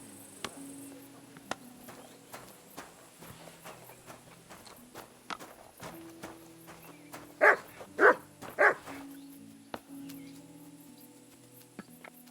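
A dog barks three times in quick succession, loud and close, inside a video game set around the village of Rattay, against a quiet ambient hum with soft footsteps.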